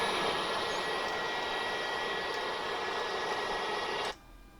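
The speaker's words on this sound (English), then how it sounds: "Like this is a very loud aircraft." Loud, steady roar of the engines of a Tupolev 154-B2 airliner in the X-Plane 12 flight simulator, holding constant before cutting off abruptly near the end.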